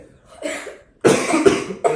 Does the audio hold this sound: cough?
yes